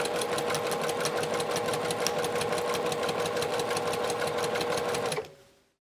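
A sewing machine stitches a no-elastic tie-back face mask, running in one steady, loud, rapid close-up whir for about five seconds before stopping abruptly.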